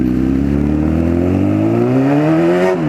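A Honda Fireblade motorcycle engine in a garage-built bike revs loud and close, its pitch climbing smoothly as the throttle opens before cutting off abruptly at the end.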